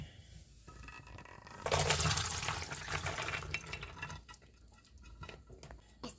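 Peanut soaking water, mixed with vinegar, is poured through a strainer: a sudden rushing splash for about two seconds, then softer trickling and dripping, fairly close in a quiet room.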